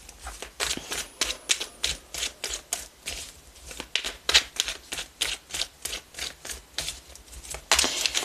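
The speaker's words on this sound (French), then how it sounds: "Je tire un autre jeu de cartes." Playing cards are drawn one after another from a deck, a steady series of crisp, close slapping and sliding snaps at a quick regular rhythm, with no talking.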